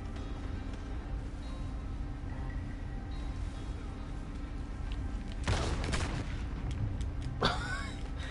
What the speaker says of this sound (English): We get gunfire over here.